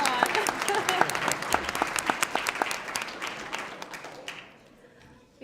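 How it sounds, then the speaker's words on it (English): Audience at a judicial candidacy announcement event clapping for a township tax collector, a full burst of many hands that gradually thins and fades out near the end. "Now we have to applaud."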